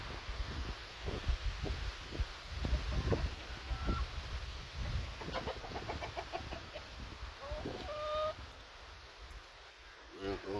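Chickens cluck in short bursts outdoors during a windy storm, mixed with rustling and people talking nearby.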